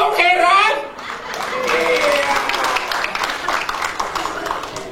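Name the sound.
audience applause in church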